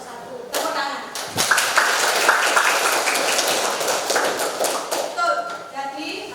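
Classroom applause breaks out, a burst of many hands clapping in a dense, irregular patter that builds quickly and holds for several seconds before tapering off, with voices audible around it.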